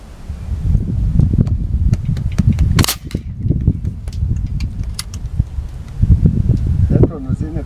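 An Artemis PR900W air rifle fires outdoors in strong wind, giving one sharp crack amid heavy low wind rumble and rustling, with people talking nearby.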